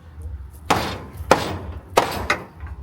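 Hammer striking an R33 Skyline car quarter panel backed by a dolly, four sharp metallic blows spaced about half a second apart in a quiet garage.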